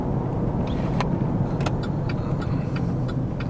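A truck drives along a road under a large overhanging tree, a loud steady rumble of engine and tyres throughout with faint ticks and rattles on top.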